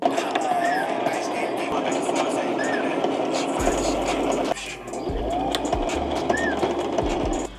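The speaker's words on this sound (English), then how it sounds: "kind of hem that, do a straight stitch across" A sewing machine runs a straight hem stitch along a hoodie's edge, a close steady whirring rattle that pauses briefly and restarts, with a voice talking over it.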